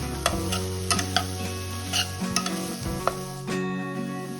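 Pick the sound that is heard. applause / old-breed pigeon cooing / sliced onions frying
sliced onions frying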